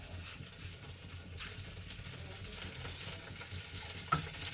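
Onion, tomato, chili, garlic and chana dal frying in hot oil in an Indian kitchen, a steady low sizzle and faint stirring, with one brief sharp clink near the end.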